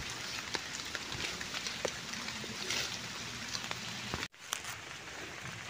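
Rain falls steadily outdoors during a mushroom hunt, a continuous close hiss dotted with individual drop taps, briefly cut by a sharp dropout near the end, with no talking.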